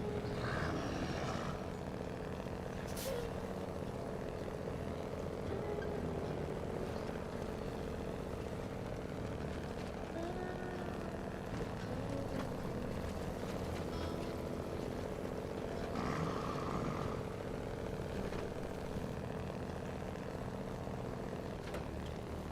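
The Big Kenneth truck in SnowRunner's Washington DLC drones with a steady diesel engine note, a sustained low hum with faint shifting tones and occasional clicks, continuous for the whole stretch and free of talk.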